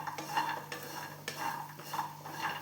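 Jackfruit seeds roasting in a pan are stirred with a utensil, producing steady scraping and rattling strokes at close range, repeated about every half second with faint clinks of metal against the pan.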